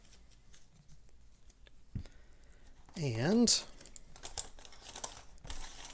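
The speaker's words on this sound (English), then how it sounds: "mix up our tiles a little bit" Cardboard Dungeonquest board game tiles being shuffled and mixed on a table, with close crinkling, sliding and clicking in uneven bursts and a sharper rustle midway, while a person speaks briefly.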